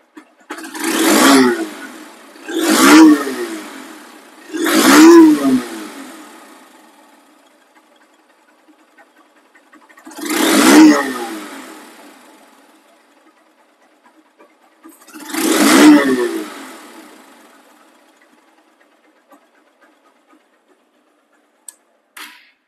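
Second-hand Honda Hornet motorcycle with a showroom-condition engine, revved in five loud throttle blips: three quick bursts, then two more spaced several seconds apart, each rising and falling back to a quiet idle, with no talking.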